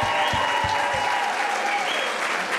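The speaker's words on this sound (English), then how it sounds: "say the biggest round of applause right now" Applause from an audience at a 2011 school fashion show finale, a loud continuous wash of clapping with a few thumps and shouts mixed in, brief and crowded.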